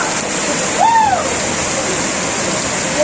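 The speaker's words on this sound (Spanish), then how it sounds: "Acaba de levantar la calle. La presión de agua." Floodwater bursts under pressure from beneath a street during 2020 Hurricane Iota flooding in Honduras, a loud, constant rushing roar with no letup and a brief faint tone riding above it.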